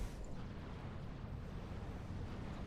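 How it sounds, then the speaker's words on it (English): Bomb strike explosion on a mass point in the strategy game Supreme Commander 2, a sustained heavy low rumble with roaring blast texture, steady and loud throughout with no clear separate bangs. "here comes a bomb strike on my middle mass point"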